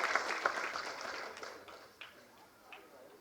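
Audience applause at a Tamil film audio launch event, a burst of clapping from the crowd that fades quickly, leaving a few scattered claps.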